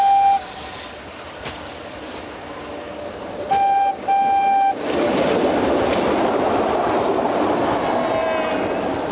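A Ligne de Cerdagne mountain railway train in the Pyrenees rumbles along steadily with a broad roar, with short tonal whistle or squeal bursts early on before the running noise swells and stays loud.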